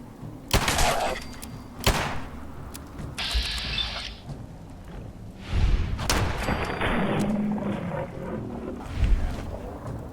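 Gunfire in Fallout 4 as the player shoots charging ghouls, several loud, sharp shots and heavy thuds spaced irregularly, with rumbling game ambience in between.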